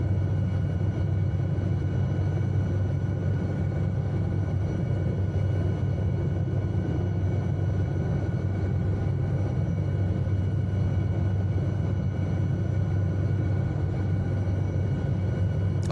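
An SA315B Lama helicopter engine in Microsoft Flight Simulator 2020 gives a steady, loud, low turbine rumble and drone that holds even and unbroken throughout, with no talking.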